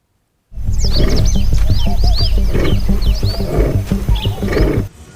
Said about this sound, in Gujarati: આખરે કેમ જંગલની બહાર સંભળાઈ રહી છે સિંહોની ડણક?